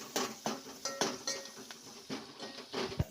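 A utensil scrapes and clinks against a pan while food is stirred and roasted over a high flame, giving repeated close, uneven strokes with metallic taps.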